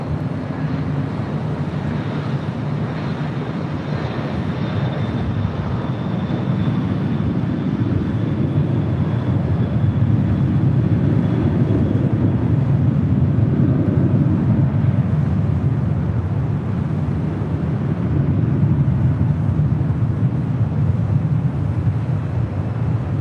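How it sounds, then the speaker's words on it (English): A Boeing 767-300 freighter rolls down runway 25 Right on the south side of LAX. It makes a steady, broad, low jet roar that holds evenly for the whole stretch and swells slightly midway, with no voices. "767-300 freighter rolling down 25 right on the south side"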